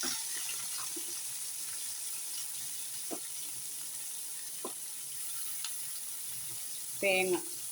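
Onions dropped into oil with fried mustard seeds for a pork curry give a steady, fairly quiet sizzle with a few scattered ticks and knocks, and a brief louder clatter near the end.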